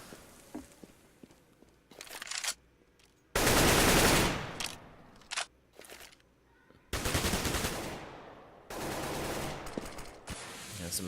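Bursts of automatic gunfire in a first-person shooter match, several loud sprays of shots separated by quieter gaps with scattered smaller sounds, no voices.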